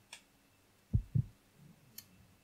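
Deep double-thump heartbeat effect from the Resident Evil Code: Veronica video game, heard once, close and clear over a quiet background with a few faint clicks.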